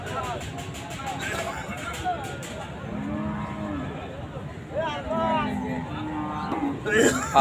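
Cattle moo several times, low drawn-out calls rising and falling, amid outdoor crowd noise and nearby talking at the Chandaikona cattle market in Bangladesh.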